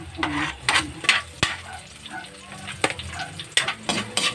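A spatula stirs and scrapes food in a noisy frying pan, with sharp metallic clanks and scraping strokes over steady sizzling, close and irregular.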